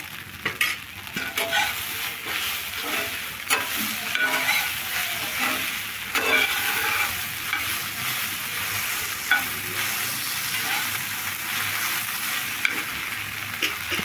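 Poha sizzles and is stirred in butter in a pan, a continuous bright frying hiss with repeated scraping strokes of the spoon, close and steady throughout with no talk.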